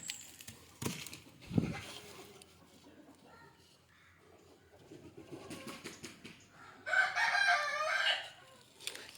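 Country chicken rooster crowing at the coop in the morning, with a sharp sudden call early on and a loud, drawn-out crow near the end among scattered clucks and faint farmyard noise.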